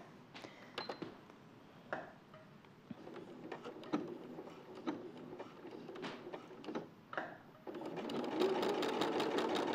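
A home sewing machine runs in short bursts of quick mechanical stitching, finishing a seam with a locking stitch, with pauses and clicks between runs and a faster, louder stretch at the end.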